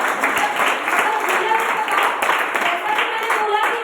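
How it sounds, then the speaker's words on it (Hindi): A crowd at a farmers' gathering in a village claps and applauds loudly and continuously, a dense patter of many hands with some voices mixed in. "दिल से एक बार जोरदार तालियां।"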